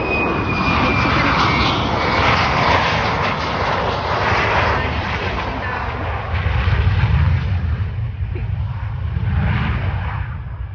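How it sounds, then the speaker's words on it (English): An F-15 fighter jet roars over RAF Lakenheath, a loud, sustained broadband engine rush that swells and fades across the sky, with voices faintly audible in the background. "Got an F-15 this time."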